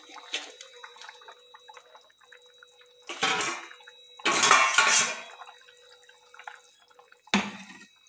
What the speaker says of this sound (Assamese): এই মাছখিনি ইয়াতে দি দিম